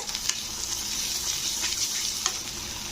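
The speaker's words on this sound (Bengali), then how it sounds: "এক চামচ লঙ্কার গুঁড়ো হাফ চামচ হলুদের গুঁড়ো তো দিয়ে মশলাকে একটু কষিয়ে নিতে হবে" Masala with chili powder and turmeric powder frying in a pan for a tilapia fish curry, giving a steady close hiss and sizzle with a few brief stirring clicks, no talking.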